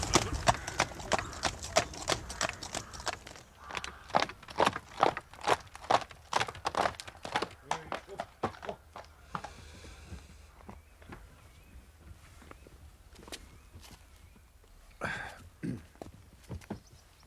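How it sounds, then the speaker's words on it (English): Horse hooves clip-clop steadily on a hard road beside a carriage, a dense run of close, sharp strikes that thins out and fades partway through, with a brief voice near the end. "Puedes ensillar el caballo y guardar el coche."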